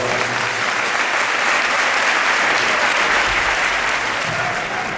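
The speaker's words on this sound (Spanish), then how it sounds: "Un aplauso para vos." Loud, sustained applause from an audience at a gala where karaoke was part of the evening, a dense, even wash of clapping with no pauses throughout.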